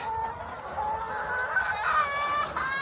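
Many chickens in a coop clucking and squawking together in a continuous busy chorus, with an occasional rooster-like call rising above the flock.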